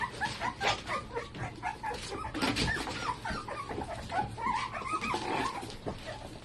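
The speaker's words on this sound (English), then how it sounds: "These puppies were a huge surprise to my friends." Puppies whimper and yip in a soft, overlapping chorus of high cries, with occasional small barks, close by and fairly quiet throughout.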